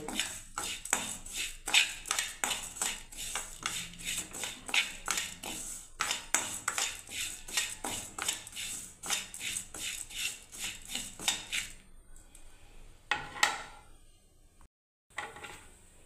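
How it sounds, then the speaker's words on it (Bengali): Semolina is stirred in a pan while being browned for Bengali-style payesh, giving rapid repeated metallic scraping and clinking of a spoon against the pan in a steady rhythm, briefly pausing near the end. "আমি এখনও নাড়ছি সেমিটাকে"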